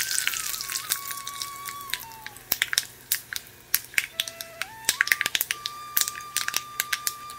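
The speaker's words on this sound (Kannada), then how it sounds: "ಇದಕ್ಕೊಂದು ಒಗ್ಗರಣೆ ಮಾಡಿಕೊಳ್ಳುವ. 1 ಟೀ ಸ್ಪೂನಷ್ಟು ಎಣ್ಣೆ, ಸಾಸಿವೆ ಹಾಗೂ ಕರಿಬೇವು." Mustard seeds and curry leaves hit a teaspoon of hot oil for tempering, giving scattered sharp pops and crackles over a soft steady sizzle, close up.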